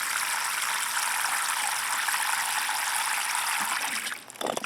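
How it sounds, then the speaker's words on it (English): Steady rushing of water poured into a plant pot, a continuous splashing gush that stops abruptly near the end with a few small drips. "Watch what happens when I water it."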